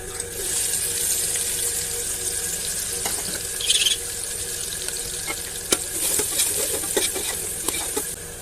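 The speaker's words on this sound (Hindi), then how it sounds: "अब हम ऑयल को गरम करके प्याज फ्राई करेंगे" Onions fry in hot oil in a pot for restaurant-style boti, giving a steady close sizzle with scattered stirring clinks and scrapes, no voices.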